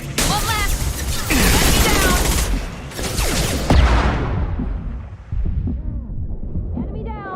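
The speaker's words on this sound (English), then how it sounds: "Taking heavy fire." Heavy gunfire in the video game Mass Effect 2: loud, sustained bursts of weapon fire and booming impacts roll on almost without pause, with combat voices mixed in.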